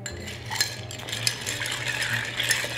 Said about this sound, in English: by stirring this cocktail at this about 20, 25 seconds, that'll offer the right temperature and the right dilution of this cocktail